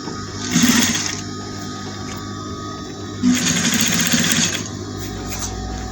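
A sewing machine stitches fabric in two whirring bursts with a quiet pause between them, heard close and alone.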